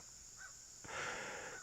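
Crows cawing outdoors, a short call followed by a louder, harsher caw burst, fairly close over a steady high-pitched background hum.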